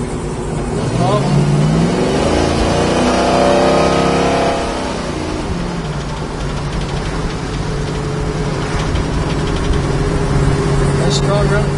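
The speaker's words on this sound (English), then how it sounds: "Nice strong run of car." A 1969 Chevrolet Camaro's V8 engine revs strongly while the car drives, a loud rising and falling engine note in the first few seconds, settling into a steady drone with road noise.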